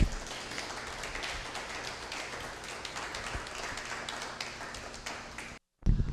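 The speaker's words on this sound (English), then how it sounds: "All right, a big NFCC round of applause for Roseanne." An audience at a sailing program event for the Florida School for the Deaf and Blind applauds steadily. The dense, crackling clapping is moderately faint and continues for several seconds without a break.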